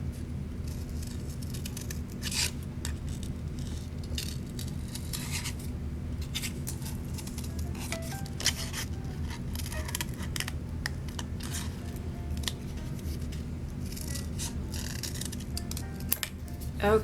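Scissors snip through stiff material in repeated crisp cuts, close to the microphone, at a moderate level over a steady background hum, with no talking.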